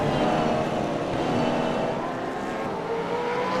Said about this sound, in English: I tried turning the engine noise down just a little bit from last week